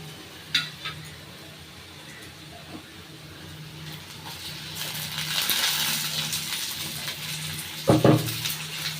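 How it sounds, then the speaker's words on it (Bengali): Tomato and green chili fry with onion and garlic in a pan, a soft steady sizzle that swells midway, with a few metallic clinks and a clatter of stirring near the end. "মিশিয়ে একটু ভালো করে ভাজা ভাজা করে নেব, যাতে টমেটোটা একটু নরম হয়ে যায়"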